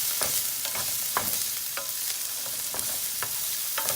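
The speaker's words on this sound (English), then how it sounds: "now we're just gonna cook our onions down a little bit" Onions softening in a non-stick pan give off a constant close sizzle, with regular soft spatula stirs and small pops breaking through the hiss.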